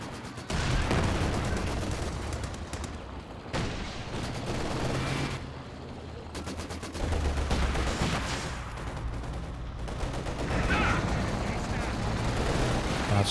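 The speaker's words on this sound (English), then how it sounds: "17 pounder gets a walloping hit on the Jagdpanzer out the back." Heavy anti-tank gun fire in Company of Heroes 2, a British 17 pounder striking a Jagdpanzer from behind during a 2v2 match, loud booming shots and blasts among dense battle noise under continuous commentary.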